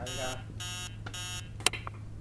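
Repeated shrill electronic bursts from an alarm clock in the horror game Emily Wants to Play ring out in an even pattern, close and fairly loud, followed by a few short knocks.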